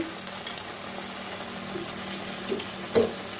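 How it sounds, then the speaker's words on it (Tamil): Food frying in oil with salt and chilli powder added, a steady low sizzle with a few brief stirring clatters near the end. "எண்ணெயிலே கொஞ்சம் ஃப்ரை ஆகட்டும்"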